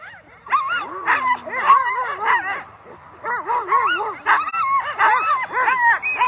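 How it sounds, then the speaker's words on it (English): Sled dogs at the start of the Willow 300 race in Alaska bark, yip and whine excitedly in a continuous, overlapping chorus close by, with high-pitched yelps rising and falling throughout. "Beautiful looking lead dogs."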